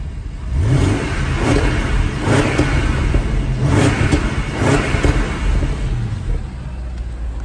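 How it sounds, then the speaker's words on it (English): Range Rover engine revving through an aftermarket exhaust, a loud throaty roar rising in several repeated blips over a steady idle, close to the microphone with no talking. "this car does have an aftermarket exhaust, which hopefully I should be able to demonstrate to you."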